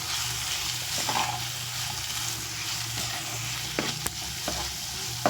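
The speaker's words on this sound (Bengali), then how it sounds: "একটু ভালো করে নাড়াচাড়া করে নিই" Boiled potatoes in tomato sauce are stirred in a frying pan, giving a steady close sizzle with soft scraping and a few sharp clicks of the utensil against the pan.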